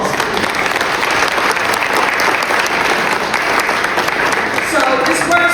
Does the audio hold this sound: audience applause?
yes